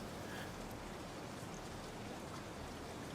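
Steady, soft rainfall hisses evenly in the background, a faint and unbroken wash of drops on surfaces with no other sounds.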